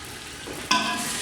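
Tomato and onion masala for daal mash fries in a pan, a steady close sizzle that jumps louder when stirred and then keeps crackling evenly.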